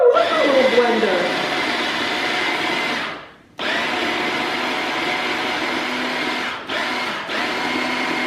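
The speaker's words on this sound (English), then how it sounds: "Oh, I love my little blender." A small kitchen blender whirs steadily as it liquefies tomato and water, loud and close, briefly cutting out twice before starting again, with a voice heard at the start.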